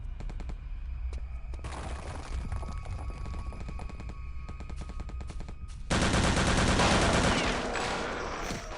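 Rapid automatic gunfire from the Wolfenstein video game played in VR, long continuous bursts of fast shots that swell louder and denser partway through, close and sustained with no talking.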